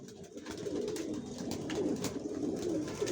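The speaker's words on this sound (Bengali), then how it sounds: "বিভিন্ন দামের কবুতর আছে।" Original racing pigeons of the Johnson line, leg-tagged and vaccinated, coo in a continuous low murmur from several birds close by.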